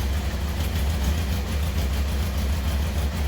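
A 1993 Honda CBR900RR California-spec motorcycle engine idles steadily, a low, continuous rumble that sits close and fairly loud with no one talking over it.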